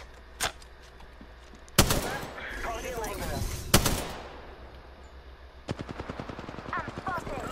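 Apex Legends gunfire: a single early shot, two loud sharp bursts with clattering between them, then a rapid run of automatic fire near the end, under game chatter and a talking voice.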